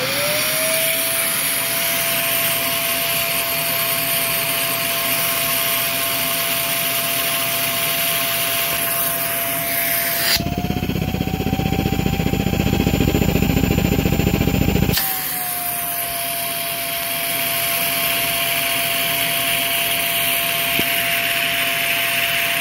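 A vacuum cleaner runs continuously with a steady whine, its pitch rising briefly as a louder, rougher stretch of suction kicks in midway before settling back to the original drone.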